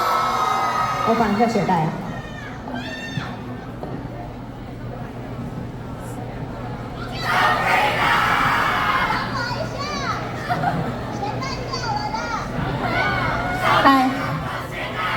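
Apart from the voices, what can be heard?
concert audience screaming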